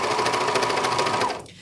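A serger sewing machine trims the frayed edge of a jeans seam, a fast, loud, even mechanical whir with rapid stitching pulses that stops abruptly at the end.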